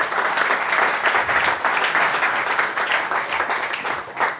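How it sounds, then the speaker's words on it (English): Audience applause at a startup pitch event, a dense and steady roar of many hands clapping that stays fairly loud for several seconds with no speech over it. "big round of applause"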